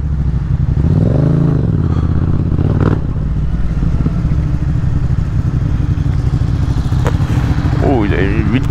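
Motorcycle passing on a road, heard from a Yamaha Tracer 700 rider's helmet, with a loud rising and falling engine note over constant heavy wind noise.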